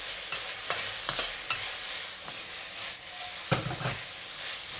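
Chopped garlic, three cloves, stir-frying in a pan for Hunan black bean pork, a steady sizzle and hiss broken by scraping stirs and a few sharp clicks of the utensil, fairly close.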